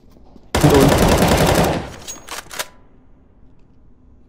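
Counter-Strike: Global Offensive gunfire opens with a loud burst of rapid automatic shots lasting over a second, then a few scattered single shots before quieter game ambience.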